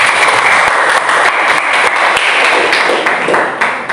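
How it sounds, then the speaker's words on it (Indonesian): Classroom applause for a student in a lesson, a loud, dense burst of many hands clapping close by, continuous for several seconds and tapering slightly at the end. "beri tepuk tangan sama Vanessa"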